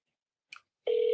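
A telephone is being dialed for a call: a brief click, then a loud, steady tone begins abruptly and runs to the end, close and with no talk.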